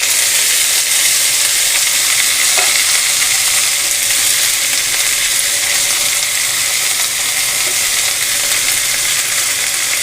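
Loud, constant hissing sizzle of leafy greens frying with browned garlic in a hot pan, an unbroken close crackle with a faint single clink.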